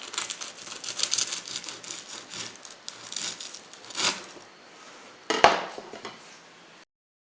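A crispy homemade croissant crunching: crackly, flaky crumbling and tearing sounds, close and fairly soft, with a sharper crunch around five seconds before silence.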